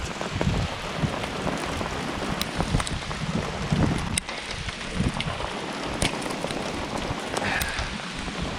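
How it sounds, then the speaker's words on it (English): Steady rain and sleet patter on a hard surface outdoors at Lake of Egypt in November, with occasional sharper ticks and a low wind rumble throughout. "This is a wintry mix. Rain and sleet."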